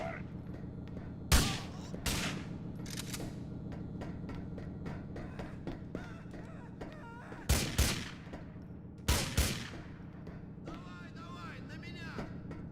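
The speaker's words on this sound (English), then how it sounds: "Who's shooting me?" Gunshots ring out in Grand Theft Auto IV, with three sharp, loud bursts of firing rising over a steady rumble of game background noise. A voice talks throughout.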